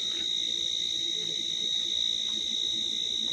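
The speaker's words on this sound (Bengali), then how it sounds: "শুধু ঝিঝি পোকার আওয়াজ ছাড়া কিছু নেই" Crickets chirp at night in the Chilapata forest near a jungle camp, a steady high, shrill drone that continues unbroken, with no voices.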